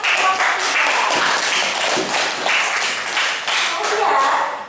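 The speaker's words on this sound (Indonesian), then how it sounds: "Tepuk tangan untuk kelompok 3." Classroom applause for a student group, a dense steady patter of many hands clapping close by for several seconds, with voices mixed in underneath.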